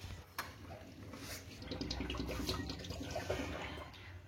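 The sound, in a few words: water flowing from a pipe into an aquarium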